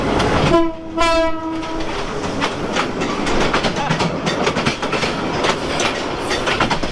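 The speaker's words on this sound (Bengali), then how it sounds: "এই পাশে কিন্তু আরও একটা ট্রেন চলে আসছে" The Brahmaputra Express arrives at a station in Bangladesh, its horn blaring loud and near for about a second. The rumble of the rolling train and clacking wheels follows, and voices talk faintly underneath.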